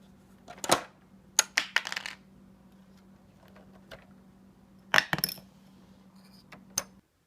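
Plastic Stackdown construction toy bricks from a big rig hauler set click and snap as they are pulled apart, in two short clusters of sharp close clicks separated by a near-silent pause.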